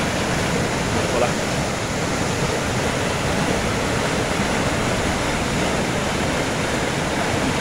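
Floodwater of the swollen Rapti river in Hetauda rushes against a bypass embankment dam, a steady, dense, close roar of churning water that holds unchanged throughout with no voices.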